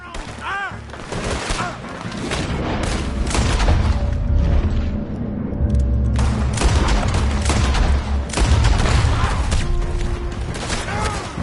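Rapid gunfire from a Red Dead Redemption 2 story mission shootout, loud bursts and booms repeating throughout, with voices speaking over the shots.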